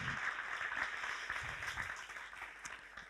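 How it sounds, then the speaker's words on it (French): A church congregation gives a sustained round of applause during a French-language service. It is a soft, continuous wash of many hands clapping at some distance, with no speech over it. "Est-ce qu'on pourrait l'applaudir bien fort ce matin?"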